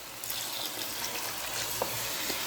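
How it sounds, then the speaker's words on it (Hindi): Water poured into chana dal frying in a pan for a chana dal and capsicum dish, a steady close hiss and sizzle with soft splashing that carries evenly through the whole stretch, and no voices. "अब इसमें हम 1 कप जो पानी डालेंगे ताकि दाल जो है अच्छी तरह गल जाए"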